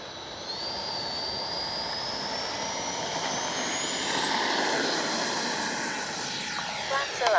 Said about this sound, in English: We're going to take off from down there, save on battery.